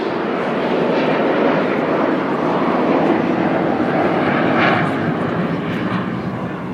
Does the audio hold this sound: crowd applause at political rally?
no